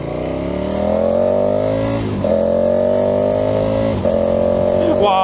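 A KTM 1290 Super Adventure S motorcycle engine revs hard and close in three long rising pulls, each dipping briefly before climbing again, loud and steady throughout.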